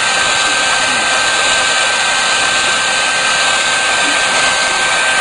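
A heat gun blows a loud, steady, airy roar while shrinking thin heat-shrink tubing over wire joints, unbroken for the whole stretch.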